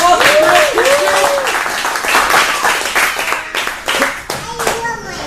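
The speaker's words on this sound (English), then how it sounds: "another big round of applause for Grant Gibson!" Lively audience clapping for a speaker at an anniversary event in Stockton, loud and close, with a whoop and excited voices and cheers mixed in before the clapping thins out.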